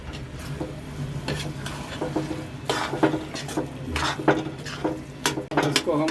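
A spoon stirs grated paneer into a sizzling pav bhaji mixture in a pan, with irregular scraping and clinking strokes over a steady fry, fairly close and without talk.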